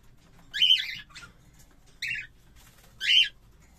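Three sharp squawking calls from a cockatiel kept for breeding, evenly spaced over a few seconds. Each is loud, close and clear against a quiet background, with no voices.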